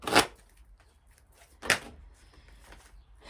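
Amethyst Love oracle cards are shuffled in two short, crisp riffling bursts, separated by quieter handling and light rustling.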